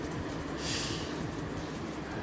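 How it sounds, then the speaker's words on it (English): Steady rolling rumble of a train running along rails in the BVE train simulator game, a continuous mechanical drone with a brief hiss partway through, fairly loud and with no voices. "That's the train tracks"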